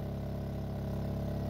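Steady drone of a portable generator powering an RV rooftop air conditioner, running evenly at a constant hum, close and unbroken with no voices.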